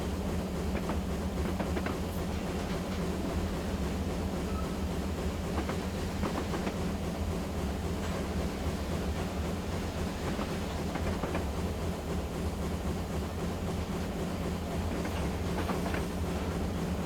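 A B1 steam locomotive running on the Great North of Scotland line in a train simulator, a steady rumbling roll with rhythmic wheel clatter and faint hiss, continuous and even throughout.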